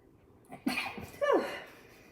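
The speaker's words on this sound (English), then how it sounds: "I have to sneeze, excuse me." A single close sneeze with a sharp intake of breath before the forceful burst, heard alone in a quiet room.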